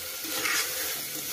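Rice frying in hot oil is stirred gently in a pan over a high flame, a brief, close, steady sizzle with soft scraping movement and no voices.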